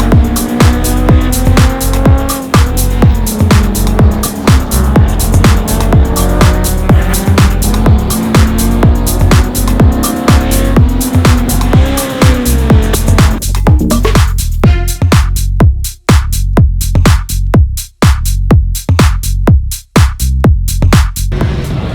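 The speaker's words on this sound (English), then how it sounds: "So we're gonna hop into the S2K and have some fun." A Honda S2K race car is driven hard around a track, its engine loud and sustained from inside the car with steady droning revs that break into sharp gear-shift dips near the end.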